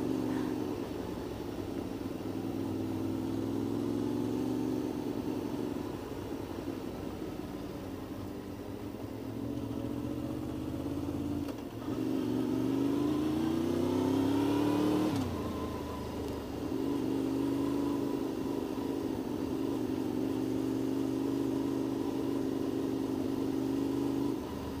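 Two motorbikes ride along together, with a steady mid-pitched engine drone throughout, and the pitch rises and falls as they accelerate and ease off, loud and close.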